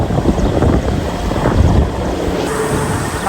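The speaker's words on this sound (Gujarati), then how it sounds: "બહુ ધીરે ધીરે પવન આવે" Wind blowing through a forest buffets the microphone in a loud, gusty, continuous rumble for about three seconds, with no voices.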